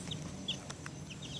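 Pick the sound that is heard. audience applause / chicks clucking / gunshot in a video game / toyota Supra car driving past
chicks clucking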